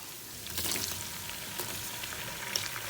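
Steady sizzling of garlic frying in hot oil for a turnip and meat curry, with a few scraping stirs, close and moderately loud.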